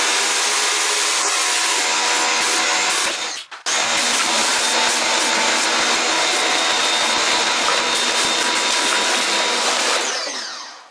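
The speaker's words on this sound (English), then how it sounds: "we'll go over the entire area with this floors cleaner" A rotary floor cleaning machine scrubs a concrete floor with a loud, steady motor roar that cuts out for a moment and then resumes, running continuously on its own.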